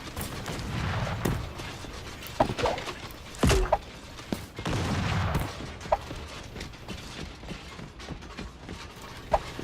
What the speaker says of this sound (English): There's definitely some close firing.